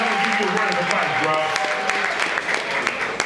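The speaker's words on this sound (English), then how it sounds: "Clap it up for him, 7 years." A comedy club audience claps and cheers in a dense, sustained burst of applause, with a voice talking through the middle of it.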